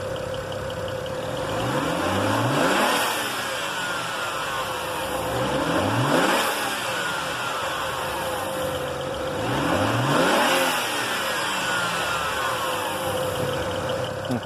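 BMW N54 engine with an added blow-off valve, revving three times at steady intervals; each rev swells and falls back toward idle, heard at moderate distance with no talking.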